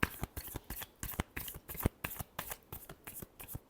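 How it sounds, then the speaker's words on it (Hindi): Tarot cards being shuffled by hand, a rapid run of crisp riffling flicks and slaps in an irregular rhythm, close and fairly quiet with no talking. "last shuffle"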